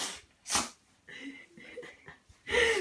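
A pug gives several sharp, snorting sneezes, two bursts close together early and another near the end, with wheezy breathing in between.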